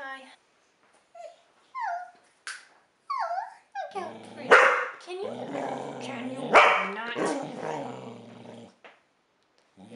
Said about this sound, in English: so that was my dog